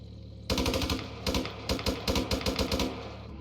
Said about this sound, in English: It's got a coax machine gun.